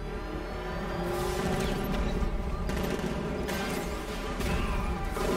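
Sustained gunfire and chaotic combat din in Batman Arkham Knight, a dense, continuous wall of shots and clatter at steady loudness throughout, with no clear speech over it.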